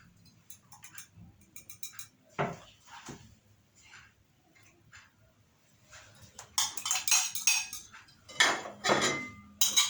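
A utensil scraping and clinking in a bowl while garlic, black pepper, salt, thyme and other spices are stirred together, scattered taps at first, then busier clattering toward the end, fairly close.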